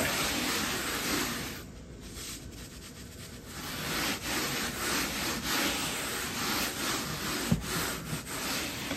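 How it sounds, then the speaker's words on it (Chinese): Salt spread by hand over rolled-out flour dough for steamed flower rolls: a steady, continuous soft rubbing and scraping swish that runs without a break for about nine seconds, close and moderately loud, with no talking. "撒点盐，放够了，然后用手给它涂抹均匀"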